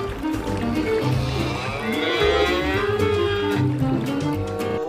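A cow moos in long, drawn-out lowing calls, loud and close, with a few overlapping moos and little else around.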